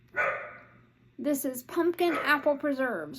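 A dog gives a brief bark or yelp indoors near the start, quickly followed by someone speaking steadily over faint background hum.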